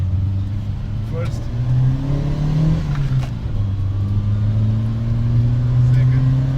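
A Skoda Favorit engine revs repeatedly, rising and falling in pitch with a close, loud exhaust note, giving a few sharp pops between pulls.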